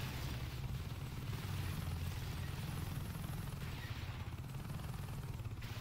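Steady, loud low rotor drone of a helicopter in the video game Saints Row 2, with a broadband rushing roar, continuous throughout with no pauses.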